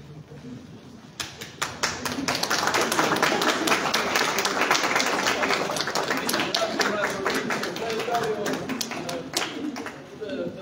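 At an exhibition opening, people applaud the author: clapping breaks out after a second, swells into sustained applause with sharp distinct claps, and carries on under nearby talking voices.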